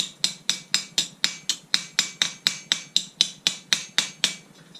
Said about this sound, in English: I can't hit down with that part, this hammer's too big for that.